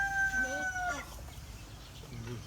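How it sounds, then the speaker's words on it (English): A hen with chicks, outdoors among ducks on a farm with vegetable plots, gives a few faint clucks and short calls near the start and end, with quiet ambient background between. "The beautiful hen."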